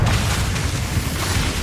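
A Confringo fire spell in Hogwarts Legacy bursts into a loud, dense, rumbling explosion that fills the short moment with sustained booming noise and no voices.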